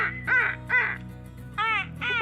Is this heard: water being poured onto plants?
no